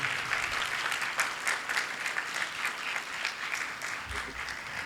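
Applause from a congregation at a Sunday Mass, steady dense clapping that carries through the whole stretch at moderate volume before thinning slightly near the end.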